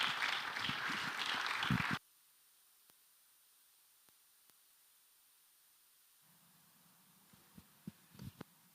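A conference audience at the RSOG 11th Annual Scientific Conference bursts into loud, dense applause for about two seconds, then it cuts off abruptly to near silence with a few faint thumps and rustles.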